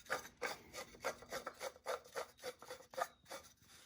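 A wooden leg vise screw threads into its wooden nut, giving a close, quiet rhythmic grinding rasp of wood rubbing on wood, about eight evenly spaced strokes with no talking.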